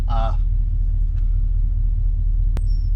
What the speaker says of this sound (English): So truck is running.